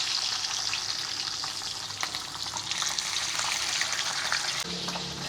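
Tofu frying in a pan with hot oil, a steady dense sizzle and crackle holding close and fairly loud throughout, with a few sharper pops and a brief clunk near the end.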